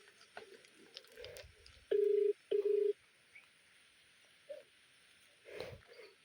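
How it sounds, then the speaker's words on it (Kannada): Telephone keypad tones sound during dialing to place a call: two loud, steady tone bursts close together, then fainter short beeps and scattered soft handling noises in a quiet room. "ಫೋನ್ ಮಾಡಿ ಬೇಗ"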